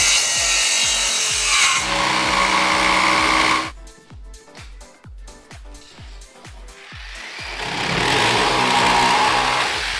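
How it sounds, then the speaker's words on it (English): A jigsaw cuts along the seam between two wood slabs, its reciprocating blade chattering in a fast rhythm, close and loud, with a burst of buzzy cutting at the start and again at the end around a rougher, pulsing stretch. "I run the jigsaw up and down the seam line that I'm going to create."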